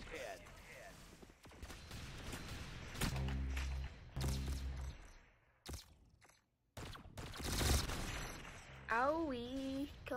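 Gunfire in the Roblox shooter Arsenal, bursts of rapid shots and thuds over game sounds while a player keeps talking, with pauses between volleys.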